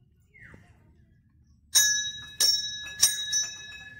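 Several metallic bell strikes ring out near a temple in a rain-soaked park, four or five clangs with long sustained tones after a quiet opening, close and fairly loud with no talking.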